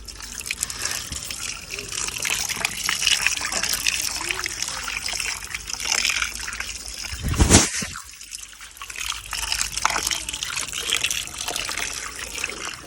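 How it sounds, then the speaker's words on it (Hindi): Water trickles and splashes steadily as raw chicken pieces are rinsed by hand in an outdoor village kitchen, with one brief louder gush, and voices talk faintly underneath. "चिकन जो है अच्छे तरीके से धुल चुका है।"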